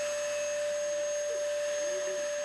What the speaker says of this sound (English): As the vacuum cleaner roars to life at the Coons,